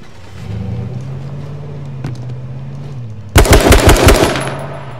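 A vehicle engine hums steadily before a loud burst of rapid automatic gunfire erupts in a gunfight in H1Z1 King of the Kill, shots tightly spaced and close, then fading.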